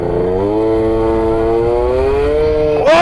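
A motorcycle engine accelerates hard into a wheelie, a loud, close drone climbing steadily in pitch for about three seconds before a sudden sharp surge at the end.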